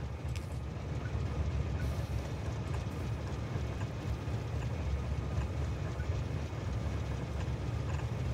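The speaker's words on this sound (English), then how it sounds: "Standing next to the trains because they're nice and loud." Trains rumbling steadily in a factory-building video game, a continuous loud low clatter and rolling drone with no pauses, heard up close.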